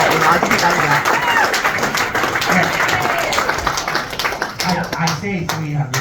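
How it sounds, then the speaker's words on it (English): An audience claps and applauds steadily, a dense patter of many hands, with a voice speaking over it. "So let's have a round of applause."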